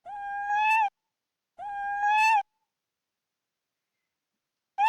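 A cat meow sound effect played reversed and boosted in volume, heard as three loud, drawn-out tonal calls with abrupt endings, separated by silence, the last one cut off at the end.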